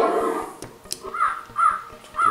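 Several crows caw in harsh, repeated calls, a few spaced apart, fairly close and clear with faint ticking in the background.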